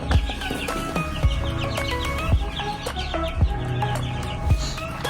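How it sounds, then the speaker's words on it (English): Backyard chickens near a chicken coop cluck and squawk repeatedly in a busy, irregular chorus, with sharp louder calls recurring about every second over a constant low background. "for all these crazy chickens that we've got here"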